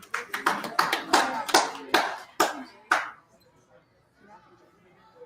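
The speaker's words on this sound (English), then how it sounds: "Some hand clapping in the background." Fans at a women's curling match clap their hands in a short burst of about a dozen sharp, fairly close claps that end abruptly, with faint arena chatter continuing afterward.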